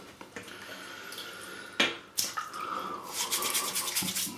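Water runs from a bathroom tap in short bursts during shaving preparation, with brief splashes and clicks, fairly faint and close, and no voices.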